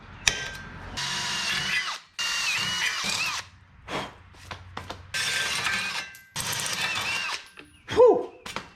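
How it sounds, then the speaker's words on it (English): A power drill bores a hole up front during a vehicle assembly build, with several loud bursts of whining drilling broken by short pauses and a clunk near the end. "Gotta drill a hole right up front too."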